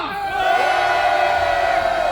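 A large rally crowd at an impeachment protest in Korea roars a sustained collective cheer, loud and close, with shouts and whoops swelling together into a steady wall of voices.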